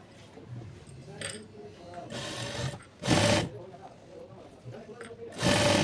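A sewing machine stitching palazzo pants runs in several short bursts of rapid whirring, near and fairly loud, between stretches of someone speaking.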